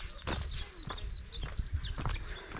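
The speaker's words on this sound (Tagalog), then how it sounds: "Mga ibon, no?" Wild birds along a mountain hiking trail in Benguet chirp in quick, high repeated calls, several bursts close together, fairly faint against soft outdoor background.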